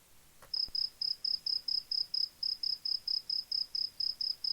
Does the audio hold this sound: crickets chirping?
yes